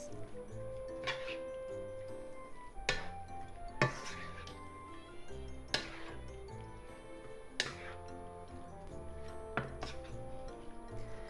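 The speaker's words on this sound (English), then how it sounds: "Give it a mix one last time because the starch is sinking at the bottom." A pork and bean sprout stir fry mixture gets stirred in a pan, with sharp utensil clinks against the pan at roughly two-second intervals over faint scraping, close and moderately quiet.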